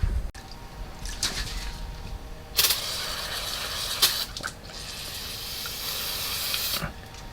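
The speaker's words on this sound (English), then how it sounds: "any type of brake cleaner, you're just going to go ahead and spray the surface, get away at knocking off all the rust" Brake cleaner hisses from an aerosol can onto rusty wheel studs of a 2019-2023 Chevy Blazer, close and steady, with a few louder sharp bursts of spray and no talking.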